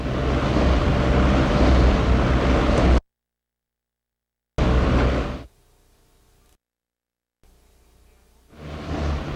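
Medium-speed wind with a high-frequency pulsing action blows across a Tacoma Narrows Bridge model, a loud, steady broadband rush that cuts out abruptly, returns in bursts with quieter gaps between, and swells again at the end.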